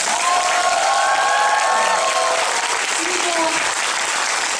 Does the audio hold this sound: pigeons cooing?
no